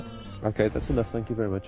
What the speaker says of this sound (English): You can hear the sheep in the background.